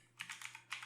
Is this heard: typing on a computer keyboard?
yes